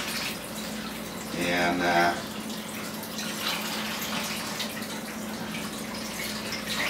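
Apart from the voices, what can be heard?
tap water washing tomatoes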